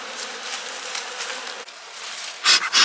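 Bees from a strong honeybee colony buzz in winter, a soft steady hum with a few louder passes of individual bees close by near the end.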